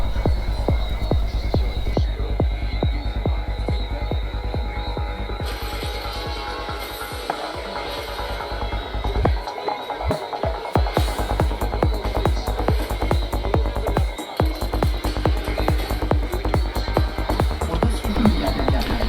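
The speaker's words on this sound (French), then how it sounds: "les sifflements des grenouilles sont infernal" A dense chorus of frogs croaks continuously, many overlapping calls in a steady, loud rhythm that fills the whole stretch, heard by night beside water.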